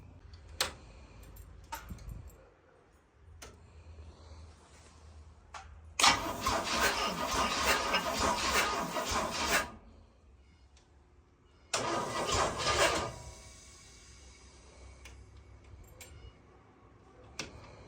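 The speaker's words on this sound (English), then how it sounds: "I'm going to put a video in here real quick showing this thing turning over" A Volkswagen bus engine with oil in it cranks and turns over twice in loud bursts of several seconds each, separated by quiet clicks and ticks, with no talking.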